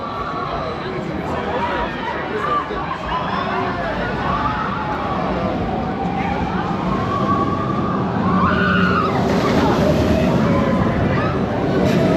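The Voltron roller coaster at Europa Park sends trains rumbling and roaring steadily past every minute, with a busy crowd chattering throughout.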